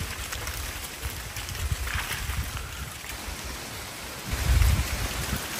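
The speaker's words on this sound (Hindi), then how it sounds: "सिर्फ एक बार साउंड सुनो पत्ते का। वाव, देखो ऐसा लग रहा है बारिश हो रहा है" Leaves falling through a forest at a jungle nature camp make a steady, dense patter like rainfall, with a louder, deeper swell near the end.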